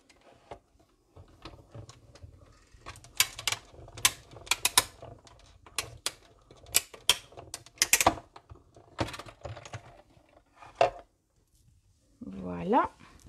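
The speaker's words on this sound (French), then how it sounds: "Et on va venir passer le tout dans la machine. Et vous allez voir, on découpe tous nos papillons en une seule fois." A paper die-cutting machine cranks a stack through to cut paper butterflies, giving irregular sharp mechanical clicks and ratcheting bursts, close and loud, with a short spoken voice near the end.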